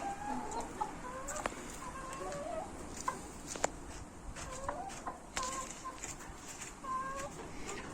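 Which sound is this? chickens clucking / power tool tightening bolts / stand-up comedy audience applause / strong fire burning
chickens clucking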